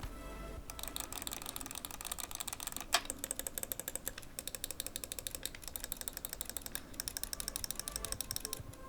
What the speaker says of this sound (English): The controls are a responsive bat-top microswitch joystick and microswitch buttons, and they do have a satisfying audible and tactile click when actuated.